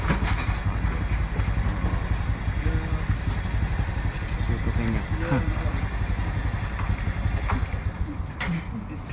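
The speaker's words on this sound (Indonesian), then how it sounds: "motor ni ada bunyi sikit" A motorcycle engine runs steadily and close by in a welding and repair workshop, with a faint extra rattle riding on the continuous drone and a voice talking over it.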